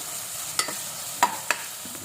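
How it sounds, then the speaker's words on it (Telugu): Ginger-garlic paste frying in a pan for a quick chicken dish, a soft steady sizzle broken by three or four sharp stirring clicks of a spoon against the pan. "అల్లం వెల్లిగడ్డ వేసుకుని బాగా ఫ్రై చేసుకోవాలి"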